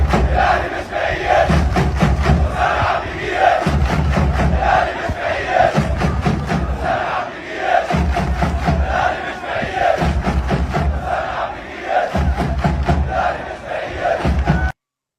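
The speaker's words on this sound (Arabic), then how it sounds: "تعال نشوف هتاف الجماهير لحسام عبد المجيد، ابننا." Football fans chant in unison for Hossam Abdelmagid, a loud, dense stadium crowd repeating a rhythmic cheer in steady waves for the full stretch before cutting off abruptly.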